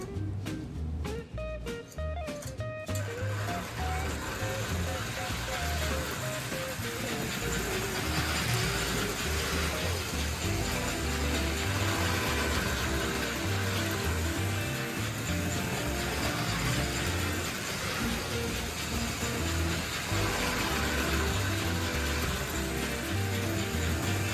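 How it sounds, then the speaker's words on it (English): An American Flyer no. 5004 switcher freight set toy train runs continuously around an oval track, giving a steady, close mechanical rumble and clatter with no pauses. "I thought we'd take our train around this oval just a couple of times, just for fun."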